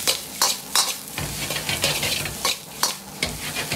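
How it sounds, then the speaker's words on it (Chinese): King oyster mushrooms stir-fried with yellow garlic chives and chili in a hot wok, with a steady sizzle and repeated sharp scrapes and clanks of the spatula. "接着倒入蒜黄和小米辣，蒜黄一定要稍微炒久一点"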